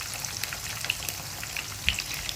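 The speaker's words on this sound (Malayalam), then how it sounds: "ഓരോന്നിട്ട് കൊടുത്തിട്ട് കൂസ പൊരിച്ചെടുക്കാം." Zucchini (koosa) slices fry in hot oil, making a soft, steady crackle with a few sharper pops, heard up close with no talking.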